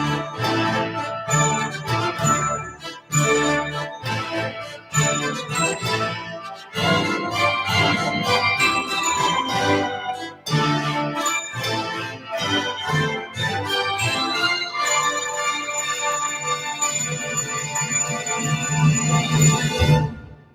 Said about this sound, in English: he puts all the mallet instruments in, chimes and bells and xylophone, and the end just sounds like bells